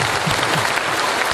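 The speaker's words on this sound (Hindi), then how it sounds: "एक बार जोरदार ताली चाहेंगे" An indoor audience bursts into steady, dense clapping that holds evenly throughout, loud and close, with no voices standing out.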